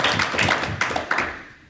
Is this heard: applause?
yes